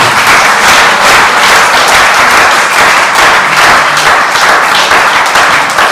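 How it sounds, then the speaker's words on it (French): Loud, dense audience applause at a family-month gathering, a continuous roar of many hands clapping close by, sustained at full strength for the whole stretch with no talk over it. "Alors, on fait l'applaudissement"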